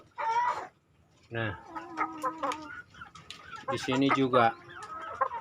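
Young cockerels in a chicken coop cluck and squawk in several bursts, close and fairly loud, while someone talks in between and over them.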